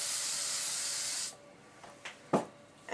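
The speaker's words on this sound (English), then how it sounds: "Let's spray it really good with some oil sheen." Oil sheen spray hisses steadily onto a layered wig in one loud, continuous burst of about a second, followed by near silence and a few soft handling rustles and taps.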